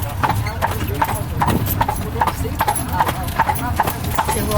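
Steady clip-clop of a horse's hooves pulling an Amish buggy along a road, evenly spaced sharp clops at a brisk trot under continuous conversation and low rolling wheel rumble.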